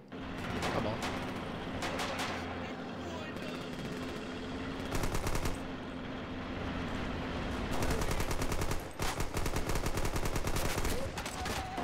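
Rapid, sustained gunfire from the World War II shooter game Red Orchestra 2, dense bursts of automatic and rifle shots cracking continuously over clattering battle noise, with a few brief gaps between volleys.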